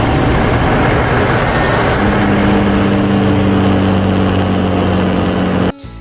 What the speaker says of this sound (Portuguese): o caminhoneiro volta a alcançar o David